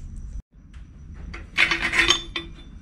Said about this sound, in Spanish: Ahora con una llave de media vamos a aflojar acá la sujeción que tiene y lo vamos a sacar